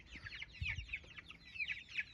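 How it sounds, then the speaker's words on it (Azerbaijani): Young chicks cheep in a steady, busy chatter, with a few low clucks from nearby fowl. The calls are close and fairly soft and continue throughout, with no talking. "Bu cücələr də özlərini öldürür."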